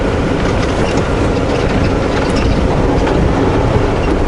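A train roars past nearby at a road crossing, a loud, dense, continuous rumble with steady wheel clatter and no pauses.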